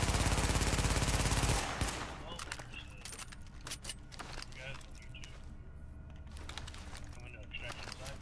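An MP5 submachine gun in a video game fires a dense, loud rapid burst for under two seconds, then gives way to quieter clicking and a person talking.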